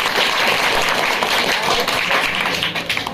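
A crowd of listeners claps steadily for two young men who just landed government jobs after the SSC GD results, a dense, continuous patter of applause filling the room with faint voices mixed in.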